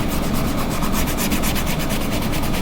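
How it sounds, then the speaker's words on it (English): A hard-bristle paintbrush rubs paint into a surface in steady, continuous scrubbing strokes, close and fairly loud, with a dry brushing texture and no talking. "Just rub it in with your brush with a harder bristle."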